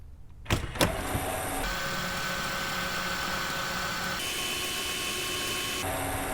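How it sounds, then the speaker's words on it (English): Electric truck camper jacks run down with a steady, loud motor whine and gear hum after a couple of sharp clicks at the start, the drone shifting in pitch slightly as it continues. "we'll go ahead and run these jacks down and get everything lubricated here"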